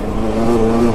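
KTM 200 XC dirt bike engine revving up close, a steady loud buzzing drone with a strong low tone that holds and rises slightly across a short second, with no talk.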